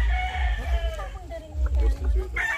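A Cardinal Kelso gamefowl rooster on a gamefarm crows loudly and close in one long drawn-out call, followed by shorter clucking notes, with a low rumble of background noise underneath.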